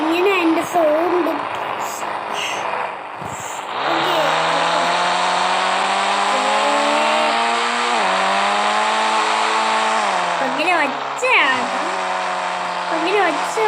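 A car engine in a driving video game drones steadily with a whining tone whose pitch rises and falls as it revs, loud and continuous throughout.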